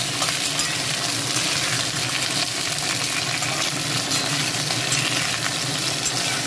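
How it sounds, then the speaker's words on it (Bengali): Flat beans frying with black cumin in a pan produce a loud, continuous sizzle and crackle, with steady stirring and scraping close by and no talking. "সিমটা একটু ভাজা ভাজা করবো"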